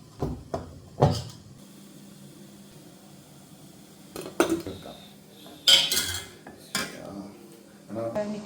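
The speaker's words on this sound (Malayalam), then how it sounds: "നിച്ചുവിൻ്റെ ലഞ്ച് ബോക്സ് ആണ്" A child's lunch box handled in a home kitchen makes scattered clattering knocks and hard plastic-and-metal clinks, several separate bumps spread over a few seconds in a quiet room.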